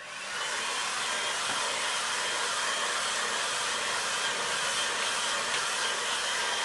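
A hair dryer blows steadily on a watercolour painting of Cape Wrath, Scotland, a loud, even whooshing roar that stays constant throughout with no speech.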